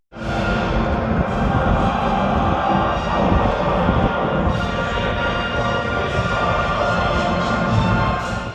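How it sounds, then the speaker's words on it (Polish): Crowd of football fans on the Kalisz market square cheering and clapping continuously, a dense, loud, outdoor roar with swells of shouting throughout. "Kaliszanie oklaskiwali każdą udaną akcję Polaków."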